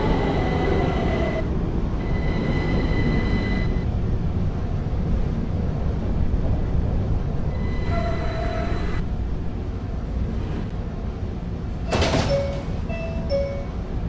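A subway train in the Roblox game PTA Subway rumbles steadily throughout, with electronic chime tones and a brief hiss of doors or brakes near the end; no voices.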